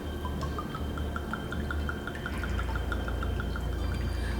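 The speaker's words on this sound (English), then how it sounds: "And then we're gonna top that off with some coconut rum." Coconut rum pours into a cocktail glass in a soft, continuous trickle, close and quiet, with faint bright clinks over a low steady background.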